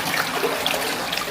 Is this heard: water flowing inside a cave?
yes